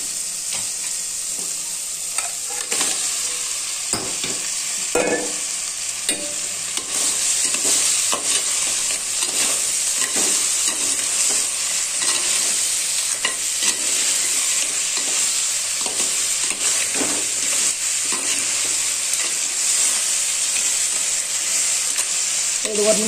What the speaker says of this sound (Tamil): இப்போ நம்ம நண்டை கலந்துக்கணும்.